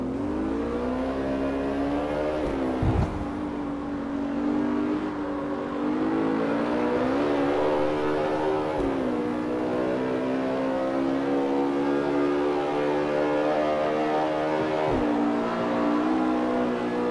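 A car in CarX Street accelerates hard through its gears, the engine whine climbing steadily and dropping at each upshift, loud and continuous for the whole stretch with no voices.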